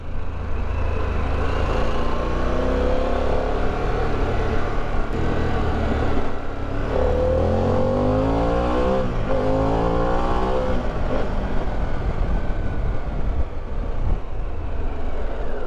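A Harley-Davidson Pan America 1250 motorcycle rides steadily with a loud, continuous engine drone, its pitch rising and falling through gear changes and wind rush.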